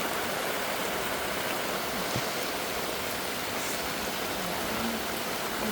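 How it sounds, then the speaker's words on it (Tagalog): Steady rain falls on a small farm, heard from inside a hut as an even, continuous hiss at moderate distance with no voices. "So, umuulan ngayon sa aming munting farm."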